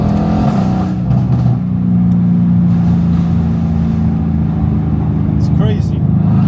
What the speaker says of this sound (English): I have 700 horsepower in this car, but the pops and bangs are not aggressive.